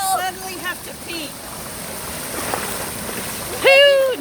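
Rainwater pours like a waterfall into an ankle-deep flooded parking lot on a rainy Florida afternoon, a steady rushing wash with brief voices talking over it.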